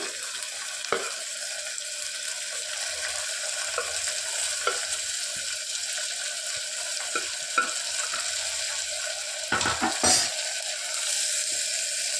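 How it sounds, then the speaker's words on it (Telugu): Finely chopped tomatoes, three large ones, fry and are stirred in a pan for a cluster beans mutton curry, a steady close sizzle with occasional sharp scrapes of the spoon and a louder clatter near the end, no talking. "సన్నగా కట్ చేసి పెట్టుకున్న టమాటాలను వేసుకోవాలి"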